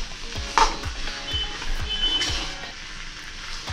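Potato masala fries in a pan with a low steady sizzle while a spoon stirs it in regular scraping strokes, close and moderately loud, no talk.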